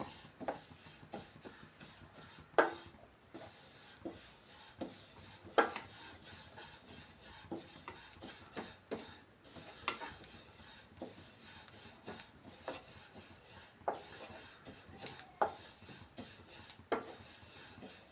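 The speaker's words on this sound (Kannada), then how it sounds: "ಇದು ಅಷ್ಟೇ ಚಿಟ್ಪಟ ಅಂತ ಸೌಂಡ್ ಬರಬೇಕು ಅಲ್ಲಿವರೆಗೂ ನಾವು ಮೀಡಿಯಮ್ ಫ್ಲೇಮ್ ಇಟ್ಕೊಂಡು ಹುರ್ಕೊಬೇಕು" Sesame seeds roast over a medium flame in a pan for festive kadubu, a soft continuous crackle and sizzle broken by occasional stirring clinks and scrapes close by.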